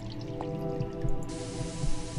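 Water filling a bottle in the video game Fran Bow, heard as soft drips and squishy liquid sounds over steady tonal game music.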